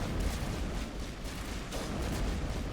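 Weapon fire in the video game Mass Effect, a dense continuous rumble of shots and booms, loud and steady throughout, without talking.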